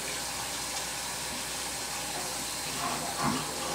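Running water from a kitchen sink tap pours steadily over a brined turkey being rinsed, a constant close hiss with slight splashing toward the end.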